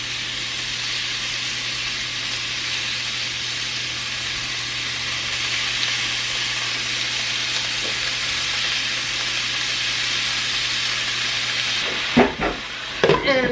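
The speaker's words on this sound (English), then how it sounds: "and I'm going to start adding the steak." Steak goes into a hot pan beside pushed-aside food, holding a constant loud sizzle for several seconds before a few sharp clatters and bumps at the end.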